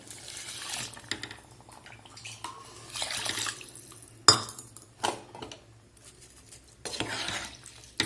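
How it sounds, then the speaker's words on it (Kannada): Water is poured into a pot of washed rice for pulao, giving soft splashing bursts with occasional clinks of the pot and utensils, fairly quiet and close, with no talking. "ನೀರು ಹಾಕ್ತಾಯಿದ್ದೀನಿ"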